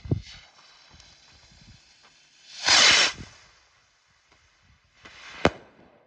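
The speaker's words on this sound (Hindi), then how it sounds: "ये स्टारगेट फायरवर्क्स का एस रॉकेट होगा।" A Stargate Fireworks Ace rocket launches with a short, hissing whoosh, then bursts a couple of seconds later in a single sharp crack, heard from a moderate distance.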